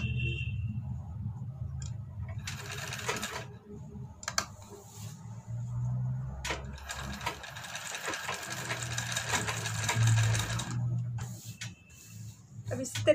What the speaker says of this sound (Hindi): अब इस तरीके से हम दूसरा सिलाई इस पर लगा लेते हैं।